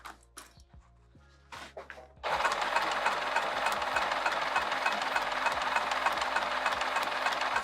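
A sewing machine stitches a zipper pocket in vinyl, starting after a few soft handling taps and then running in a fast, steady mechanical chatter, close and loud, with no talk.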